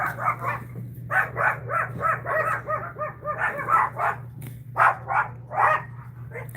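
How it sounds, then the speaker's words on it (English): Several dogs bark outside in rapid, overlapping bursts nearby after a dog got loose, a nearly continuous clamor over a low steady hum, with no talking. "The dogs are barking outside."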